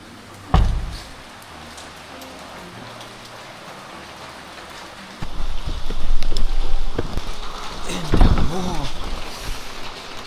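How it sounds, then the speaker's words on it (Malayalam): Heavy rain falling steadily, a constant hiss that grows louder and denser partway through, with a few thumps and brief bumps mixed in. "എന്തൊരു മഴയാണെന്നറിയോ"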